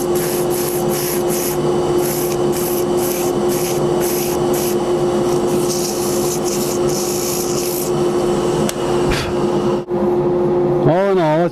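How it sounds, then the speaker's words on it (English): Sandpaper rubs against a turned wooden bead spinning on a lathe, producing a steady close hiss over the motor's constant hum, with pulsing scratchy strokes as the paper keeps moving. "I'll get my sandpaper a little more curved here and just try to keep it moving"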